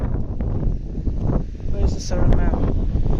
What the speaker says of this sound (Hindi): इतनी तेज हवा चल रही है